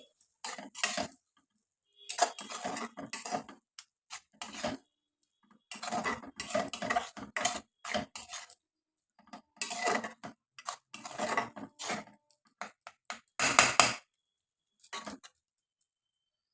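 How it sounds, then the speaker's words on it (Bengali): A spoon scrapes and knocks against a pan while semolina is stirred into milk for carrot-papaya halwa, with irregular bursts of clinking and scraping separated by short pauses. "সুজিটা দিয়ে আমি ভালো করে আর একবার মিশিয়ে নিচ্ছি"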